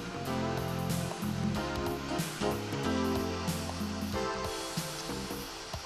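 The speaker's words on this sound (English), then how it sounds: "Also, the cleaning of each piping is performed." A high-pressure water jet cleans the inside of piping, a steady loud rushing spray with slight pulsing, under background music.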